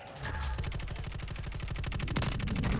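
Rapid automatic gunfire from a Pulemyot machine gun in Call of Duty Warzone, an even stream of about two dozen closely spaced shots fired in one continuous burst, moderately loud.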